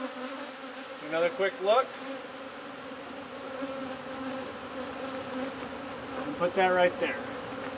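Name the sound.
bees buzzing while a hive frame is inspected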